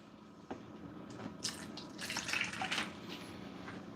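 Water poured into a tub for pet constrictor snakes, faint splashing and trickling with a few soft drips, quiet and close.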